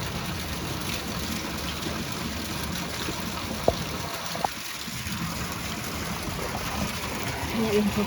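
Heavy rainwater runs like a swollen stream past a doorway during a downpour at dusk, a steady broadband rush that stays constant throughout, with a couple of brief sharp clicks midway and a faint voice near the end.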